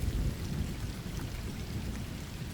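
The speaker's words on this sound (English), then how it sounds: "The sound of falling water was constant, interrupted only by the occasional thunder rumbling in the distance." Steady rain falls with a low, continuous rumble of thunder beneath it, an even wash of sound with no voices.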